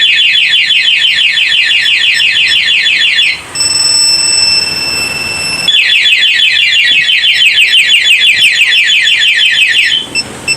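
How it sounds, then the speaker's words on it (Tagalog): Aftermarket alarm fitted to a Yamaha R15 motorcycle wails loud and close in rapid repeating electronic pulses. It cuts briefly to a steady tone, then resumes the warbling pattern and stops near the end. "So, working na siya. Yung alarm niya nagbabibrate."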